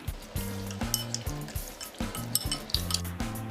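Chicken liver being stirred with salt, turmeric and garlic paste, giving repeated clinking scrapes of a utensil against the bowl in a quick, uneven rhythm, close and clear with no talking.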